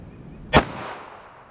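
A single loud, sharp report from a 5-inch pistol firing a 200 gr .40 S&W Underwood Nosler JHP round, ringing out briefly outdoors with no talk.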